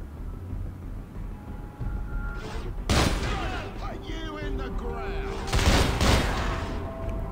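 Rapid bursts of gunfire from a new weapon in the 2014 Robocop video game crackle in loud, dense volleys with booming impacts over a noisy bed of game sound, strongest around a couple of heavy salvos.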